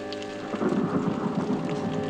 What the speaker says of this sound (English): And again, bringing back around that thunder.